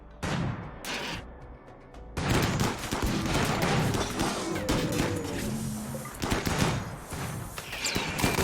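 Slug guns and turrets firing at centipedes in the RimWorld video game, a burst of shots followed by dense, loud rolling volleys of gunfire and impacts that continue to the end.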